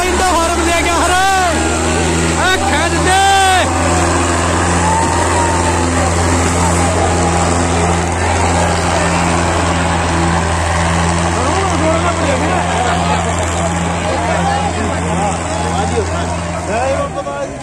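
Farmtrac 6055 and Indofarm 3055 tractor engines roar at full load during an outdoor tug-of-war tournament, a loud continuous drone with deep engine hum throughout, a crowd babbling and shouting over it.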